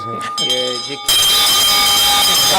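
A loud, sustained bell-like ringing with bright metallic tones starts abruptly after a second of people talking, then continues steadily.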